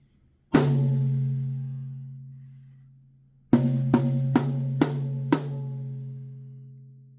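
A single drum with a gel damper on its head rings out with a focused, sustained tone, then after a pause four more strikes in quick succession, each decaying smoothly.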